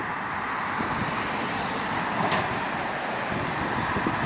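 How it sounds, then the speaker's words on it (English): An articulated lorry approaching on a roundabout road at Skeoch in Stirling, Scotland, heard as a continuous broad road rumble and tyre noise mixed with general traffic, fairly steady in level with no talking. "And we've got an Arctic truck coming our way."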